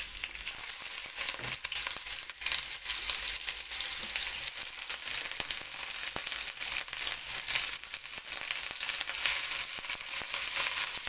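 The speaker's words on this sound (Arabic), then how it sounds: "وهنبتدي بقى ننزل باللحمه قطع قطع كده عشان الطاسه ما تبردش معانا" Chunks of meat searing in browned butter in a hot pan for Egyptian kebab hala with potatoes: a dense, loud, crackling sizzle that runs continuously, with no talk.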